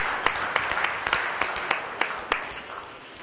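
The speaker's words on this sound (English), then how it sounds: "give all our junior exhibitors a nice round of applause" Applause from a crowd at a cow show, a steady wash of clapping with a few sharper claps standing out, moderately loud and fading slightly toward the end.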